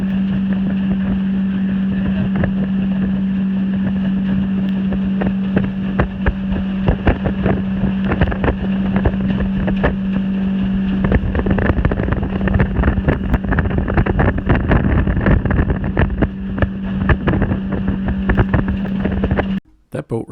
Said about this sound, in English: That boat ride was early in the morning, heading up the lake and crossing the lake